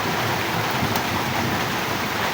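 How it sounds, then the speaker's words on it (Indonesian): Steady rain pours down in Kalimantan Barat, West Borneo, a dense unbroken hiss of drops filling the scene at constant loudness with no voices over it. "sambil menunggu hujan reda"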